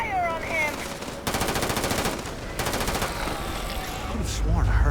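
Automatic gunfire in the Starfield video game: two rapid, rattling bursts of about a second each, loud and close, separated by a short pause, over a steady background of game ambience and distant effects.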